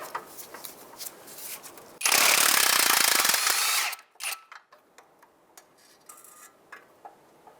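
A power tool removes the last bolt from the crankshaft sensor bracket on the transmission housing of a 2007-2015 Mazda CX-9: a loud two-second whirring burst, then scattered metallic clicks and ticks nearby.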